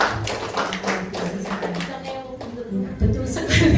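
Scattered hand clapping in a school teachers' training session, a run of close taps and claps over several seconds, with a voice talking over them and a louder burst of clapping near the end.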